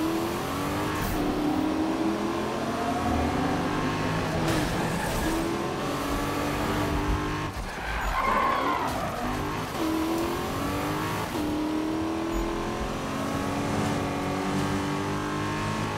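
Racing engine of a car in the Need for Speed (2015) video game, a steady loud revving drone with shifting pitch and gear changes throughout, a brief dip midway, and no clear tire skid.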